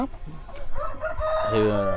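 A fighting cock for sale in Ongole crows nearby, one rising, drawn-out call that follows brief clucks and background noise, clear and fairly loud.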